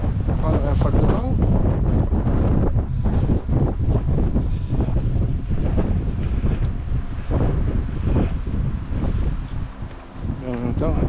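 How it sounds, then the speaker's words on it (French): A strong gust of wind buffets the microphone on a gravel path near a lake, a loud continuous roar and rumble that swells and dips for several seconds. "On prend la rafale de vent."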